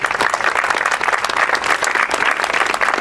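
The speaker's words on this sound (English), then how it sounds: "So a round of applause for that." Sustained, dense applause from an audience at a community announcement about a Food Share mobile pantry in Ventura County, steady and loud for the full stretch.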